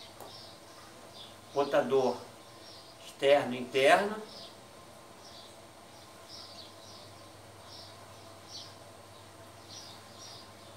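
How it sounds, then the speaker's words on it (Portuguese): Small birds chirp faintly and repeatedly in the distance in the morning at a beach house while a person speaks briefly over the steady background. "Aqui a gente está numa casa de praia, escuta o som dos pássaros de manhã"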